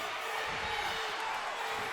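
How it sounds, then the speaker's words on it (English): Live crowd at an MMA bout between Brandon Bell and Jason King roars steadily as a fighter presses the attack, a dense continuous wash of cheering and shouting with faint voices mixed in. "Crowd getting into it as King is on the attack."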